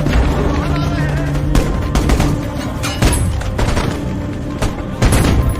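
Gunfire from a sniper ambush on a military patrol in the film The Ambush crackles in loud, repeated bursts over a constant din of battle noise.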